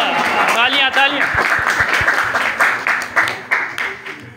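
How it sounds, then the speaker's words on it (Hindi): Audience applause at a political programme in Rahim Yar Khan, a dense crowd of clapping with voices and cheers mixed in, steady and loud, with a few sharper claps standing out toward the end. "तालियां।"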